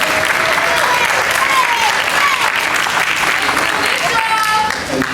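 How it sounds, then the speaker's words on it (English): Loud, dense clapping from an audience at a Rotary Club civic gathering, steady and continuous throughout, with faint cheering or voices woven in beneath. "So I want to give yourself a round of applause for supporting these young people."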